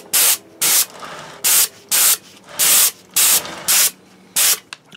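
Glossy clear coat is sprayed onto a Blade Runner 2049 scanner prop replica in eight short, loud hissing bursts with brief gaps between them, close and alone.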